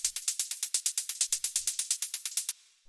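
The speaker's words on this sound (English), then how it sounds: "So this is 2 sounds, and this is playing that constant 16th note thing." Constant sixteenth-note hi-hat sample run through a bit reducer for polegroup-style techno, a steady crisp run of about twenty bright ticks over two and a half seconds, then cut off, with no voice.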